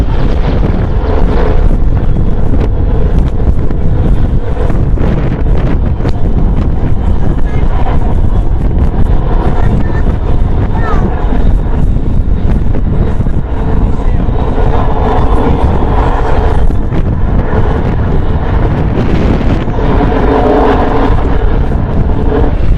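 A Royal Navy Merlin helicopter making a gentle running landing at RAF Waddington in 2010; a loud, steady rotor and turbine roar with heavy wind buffeting across the whole stretch, with no break.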